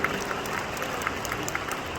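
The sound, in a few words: audience applause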